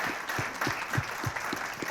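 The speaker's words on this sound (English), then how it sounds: "Please give our panelists a round of applause" Audience applause for a panel discussing Colorado's 2024 ballot measures, a steady wash of clapping from a small crowd with no voices over it.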